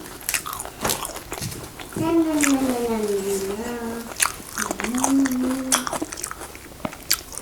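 Close biting and chewing of rice with soy-pickled shrimp and salmon, soft wet crunches and squishes coming in quick bursts under an ongoing voice.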